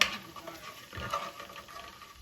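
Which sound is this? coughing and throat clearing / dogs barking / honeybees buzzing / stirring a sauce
stirring a sauce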